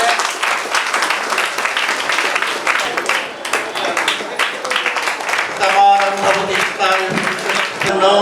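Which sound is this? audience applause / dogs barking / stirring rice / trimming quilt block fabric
audience applause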